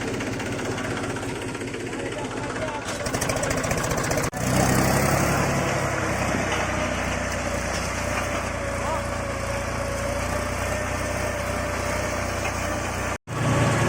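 A tractor engine drones steadily while ploughing a field, loud and close for nearly the whole stretch, with a brief dip just after four seconds and a short dropout near the end; voices may be faintly present.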